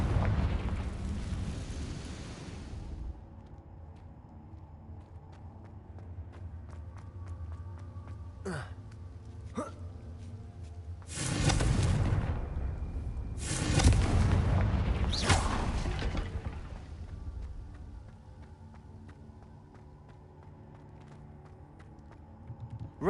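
Confringo fire spell blasts in Hogwarts Legacy, with two loud booming bursts a few seconds apart over a steady game music bed, plus an earlier fading rumble.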